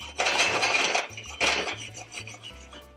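Quinoa toasting in a pan, two loud rattling, scraping bursts as the grains are stirred and shaken, with quieter scraping between them, close up.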